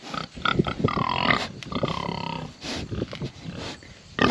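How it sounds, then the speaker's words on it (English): A Duroc pig snorts and grunts up close in a farm pen, with loud, rough, breathy bursts that come in irregular runs and short pauses, and no speech. "Excuse you, you're snorting on me."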